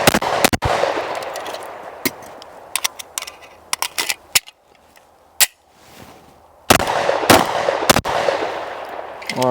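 Rapid 10mm pistol shots from a Rock Island Armory Tac Ultra FS 2011 on a shooting range, sharp loud cracks in quick strings with short pauses and a brief quiet gap before a final burst.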